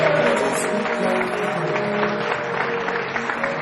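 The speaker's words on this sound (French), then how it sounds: "On applaudit pour la sape." Studio audience applause on a French television variety show, a dense steady clapping that holds at full strength for the whole stretch with no voices over it.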